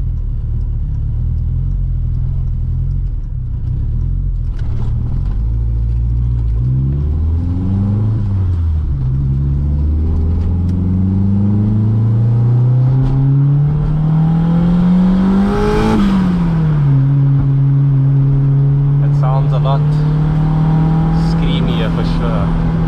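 A VW Mk2 GTI with a 1.8T turbo engine and a 76mm exhaust, suspected of turbo surging, revs loudly up close, its note climbing and falling in repeated swells before holding a steady high drone.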